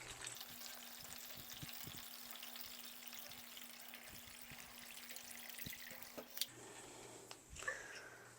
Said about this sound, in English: I'm using plain water, and I'm going to fill a tray up by about